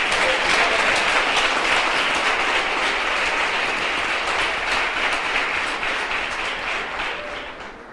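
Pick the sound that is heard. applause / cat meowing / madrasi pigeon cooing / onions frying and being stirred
applause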